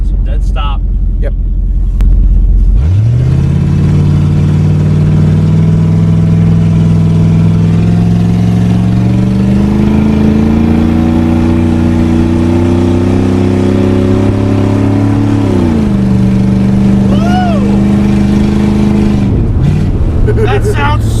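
A propane-powered Cooper truck with a straight-pipe exhaust pulls away from a dead stop, its deep burbling engine rising loudly in pitch, easing, then climbing again, with people talking in the cabin.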